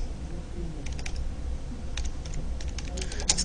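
A command being typed on a computer keyboard while creating a disk partition, several brief bursts of close key clicks over a steady low hum, with no talking.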